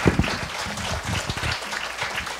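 An audience at a school climate-justice presentation claps and applauds in a steady, dense patter of hands. The sound is moderately loud and fills the room briefly, with no one speaking over it.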